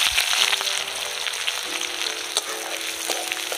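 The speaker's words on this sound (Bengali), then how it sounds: "আমি এরকম 3টে বড় সাইজের পেঁয়াজ লম্বা লম্বা করে কেটে নিয়েছি। এবার আমি এইটা বেরেস্তা করে নেব।" Three large onions, sliced into long strips, frying in white oil in a kadai for egg biryani birista, giving a steady close sizzle with a few faint stirring clicks and no talk.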